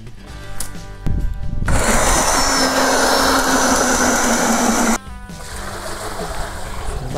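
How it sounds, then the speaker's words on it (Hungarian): Water poured from a bucket into a mixer of adobe plaster: a loud, steady rushing splash running for about three seconds, then cutting off sharply, with quieter handling noise before and after. "Leöntöm."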